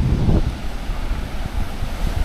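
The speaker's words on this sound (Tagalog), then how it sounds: "Ang lakas ng alon dito." Strong sea waves at a beach, a rough surging roar with heavy wind buffeting the microphone, loud and close throughout.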